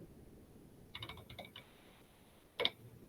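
Short burst of typing on a computer keyboard: a cluster of quick, light key clicks followed by a pause and one louder key press, close and quiet with no talking.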